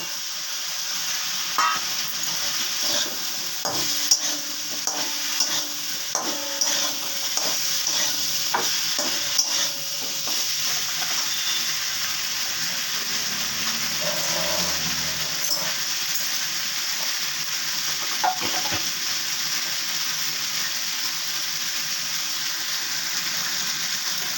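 Potatoes and pointed gourd frying in spiced oil, a steady close sizzle broken by clattering stirring and scraping in the pan, quieter toward the end, with no talk.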